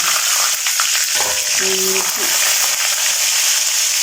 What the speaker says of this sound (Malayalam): ഇപ്പം നമ്മുടെ എണ്ണ കടുക് പൊട്ടിയിരിക്കുകയാണ്. അതിലോട്ട് കറിവേപ്പില ഇട്ട് കൊടുക്കാം.